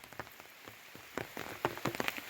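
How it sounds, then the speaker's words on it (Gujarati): Light rain patters softly, scattered drops tapping a nearby surface, growing slightly busier toward the end. "અને વરસાદ પણ પડી રહ્યો છે ધીમો ધીમો"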